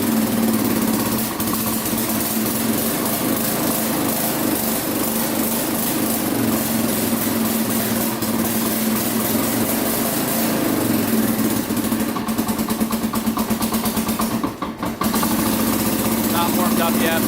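A Kawasaki 4x4 utility vehicle's small engine idles steadily while warming up, a loud, close, even drone with a brief dip near the end and a voice speaking over it.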